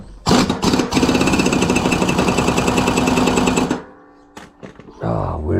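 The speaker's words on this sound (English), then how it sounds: "have a good air compressor, good hammer gun" Pneumatic hammer gun driven by an air compressor, firing as a loud rapid rattling burst for about three seconds at close range, then short sharp taps and a hiss of air as it stops.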